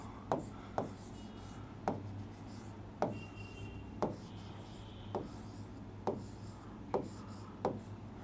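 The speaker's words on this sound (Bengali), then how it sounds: "তাহলে চলো আমরা প্রথমে লিখি ফেসবুক" Chalk or marker strokes on a board while the word Facebook is written out, heard as a series of crisp taps and short scratchy rubs spaced about a second apart, close and quiet over a faint steady hum.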